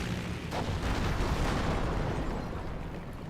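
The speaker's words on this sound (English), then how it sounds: "here comes the bombing run" Bombing run in the strategy game Company of Heroes: a dense, continuous rumble of overlapping explosions and low booms, fairly loud and sustained without a break.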